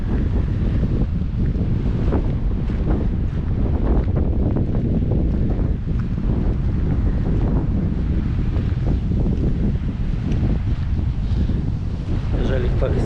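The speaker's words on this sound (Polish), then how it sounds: "No jak zwykle ocean" Ocean waves and wind on the Gran Canaria coast at a fishing village, a steady loud rush of surf and gusting wind buffeting the microphone throughout.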